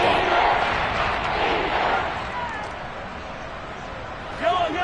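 A stadium crowd in the Madden football video game roars and cheers steadily ahead of a big third down, a broad wash of noise that eases slightly before a brief swell at the end.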